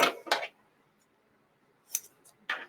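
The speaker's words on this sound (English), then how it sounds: "And I'm going to take some paper tape." Paper tape is torn off close by during machine embroidery work, giving a few sharp, dry ripping bursts with silent gaps between them.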